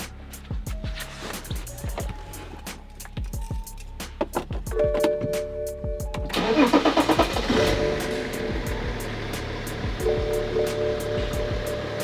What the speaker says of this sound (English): we'll go ahead and start it, show you it idles pretty good